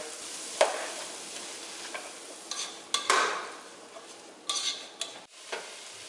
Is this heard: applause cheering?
no